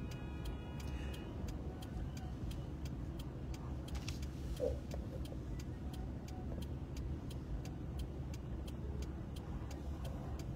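A car drives along and swings through a U-turn near a crowd, its engine a steady low rumble with a faint rhythmic ticking, likely the indicator, running throughout.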